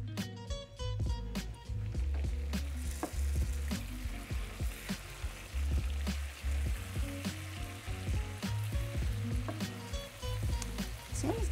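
Eggplant frying in a pan sizzles and spits steadily at close range, with frequent clinks and scrapes of a utensil stirring throughout and no talking.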